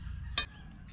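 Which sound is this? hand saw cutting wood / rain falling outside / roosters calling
roosters calling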